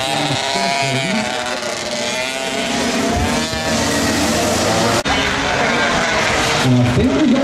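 Race cars roar past on a winter trophy circuit at Genk, one with a noisy exhaust, the engines loud and continuous under a commentator's voice.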